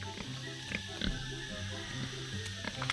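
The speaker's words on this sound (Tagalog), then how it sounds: "Isa kang pulang baboy." A native red pig on a farm grunts in short low snorts close by, repeated several times against a steady background hum.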